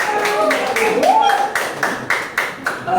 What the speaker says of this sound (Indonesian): Tepuk tangan buat teman-temannya yang depan ya.